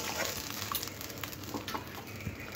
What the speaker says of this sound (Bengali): মশলাটা খুব ভালো করে কষে দিতে হবে।